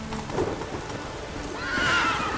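A horse neighs in The Witcher 3, a bright whinny rising near the end over steady rain and a faint clatter of hooves, with no one speaking.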